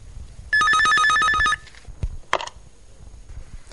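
A telephone rings in a Bangladeshi radio drama, one loud electronic trill burst of about a second, followed by a receiver being picked up with a click and handling noise.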